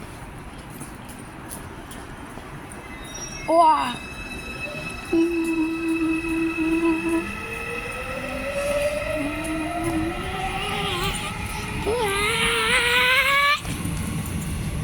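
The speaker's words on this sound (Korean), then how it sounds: "2번 열차 의정부행" A subway train bound for Uijeongbu pulls into a station, its electric motors whining upward in pitch with rumbling wheels, a brief squeal, and a short exclamation from someone nearby.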